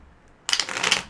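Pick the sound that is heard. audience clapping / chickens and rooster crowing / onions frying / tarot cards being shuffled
tarot cards being shuffled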